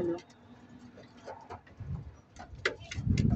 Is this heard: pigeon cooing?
yes